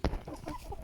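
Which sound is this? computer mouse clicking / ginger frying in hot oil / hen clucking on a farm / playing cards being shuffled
hen clucking on a farm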